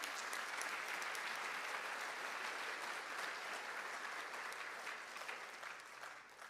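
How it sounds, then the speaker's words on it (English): Sustained audience applause at a conference opening ceremony in a large hall, a dense, steady wash of clapping that holds for several seconds and eases slightly toward the end. "please give them both a big round of applause"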